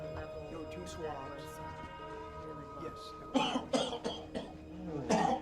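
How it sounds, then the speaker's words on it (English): Someone coughs several times in a rough, throaty cluster near the end, after a stretch of murmured talk and faint background noise. "Starts with a cough."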